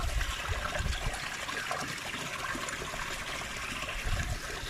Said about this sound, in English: that's a holy well, like spring water